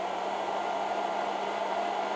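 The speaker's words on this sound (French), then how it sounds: "Alors, test du sèche-cheveux," A hair dryer on its lowest speed setting, powered by a FlashFish P63 520Wh solar battery, gives a steady, even whooshing hum with a faint tonal whine and no other sounds.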